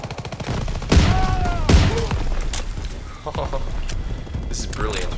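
Gunfire in Call of Duty WW2 during the D-Day campaign: sharp repeated shots and bursts with booming impacts, loud and dense throughout, under the clutter of game battle noise.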